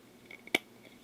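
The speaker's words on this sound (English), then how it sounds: "I'm just going to cut it with the scissors" Scissors snip once through deco foil during card crafting, a single sharp, close cut standing out briefly against a quiet room.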